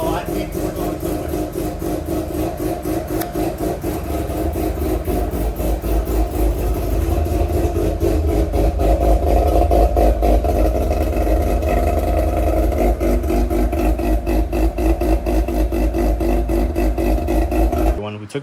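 A Mazda RX-8 rotary engine, fitted with new coil packs, runs steadily with a dense, buzzing idle that swells and rises in revs midway, loud and close, with a voice speaking over it at times.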